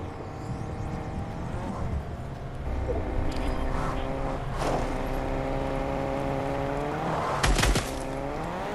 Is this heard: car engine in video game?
yes